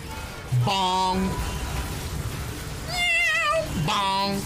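A voice imitates a cat, giving loud drawn-out meow cries near the start and twice more toward the end, over continuous background game noise.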